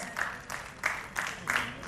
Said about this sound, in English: Come on, audience, cheer for her.